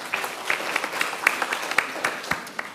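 An audience applauds at a criminal justice reform event, a steady patter of many hands clapping in a room, moderately loud and continuous throughout.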